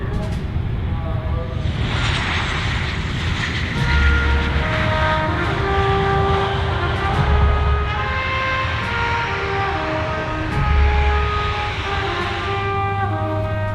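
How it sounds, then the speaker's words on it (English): Steady roar and whine of an airplane engine as it taxis slowly to parking under a water salute at the Oshkosh airshow, a continuous loud drone with shifting tonal hums and occasional low thumps. "The airplane is getting a water salute as it taxis to the parking position"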